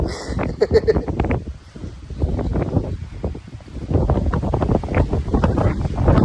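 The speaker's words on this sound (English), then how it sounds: "oh geez, it's windy." Gusty wind buffets the microphone in heavy rumbling bursts, with a voice speaking briefly over the roar.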